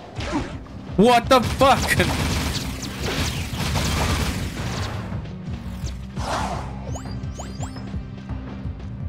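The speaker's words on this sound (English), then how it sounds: "We did it! Explosion!" A video game explosion gives a sudden loud burst and rumble about a second in, followed by lingering rumbling game effects, while a player shouts excitedly over it.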